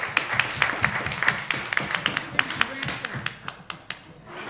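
Scattered applause from a modest audience at a Manhattan investment and financing forum, sparse, uneven claps rising and trailing off over a few seconds, with murmuring voices in the room underneath.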